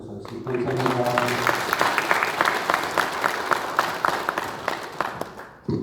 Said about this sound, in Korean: 다시 한번 감사의 박수 하겠습니다